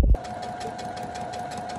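A sewing machine stitches elastic onto gathered fabric for a dress, a steady close mechanical whir with a fine rapid needle pulse running continuously after a brief bump at the start.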